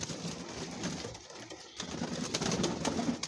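Egyptian Swift fancy pigeons coo softly in a loft, low throaty murmurs and rustling coming in uneven bursts with a brief lull in the middle.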